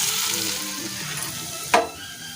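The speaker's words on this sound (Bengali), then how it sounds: "লাল লাল করে পেঁয়াজগুলো ভাজা হয়ে গেছে, এবার টমেটো দিয়ে দেবো।" Onions frying in a pan for a Bengali lote (Bombay duck) fish dish, a steady close sizzle throughout with a brief louder hiss burst near the end, likely as tomatoes are added.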